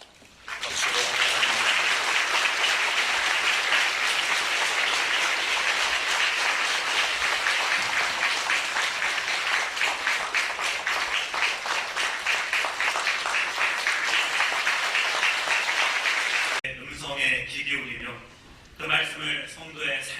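Sustained applause from a congregation at a Presbyterian church installation and ordination ceremony, loud and steady for about sixteen seconds before fading, followed by a short spoken passage.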